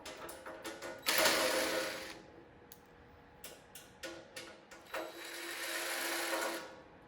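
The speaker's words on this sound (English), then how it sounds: "I'm going to go ahead and take these screws out too." A powered screwdriver whirs in short bursts close by, taking screws out of a 12U AxcessAbles rack, with quiet clicks and handling between the runs and two longer spins.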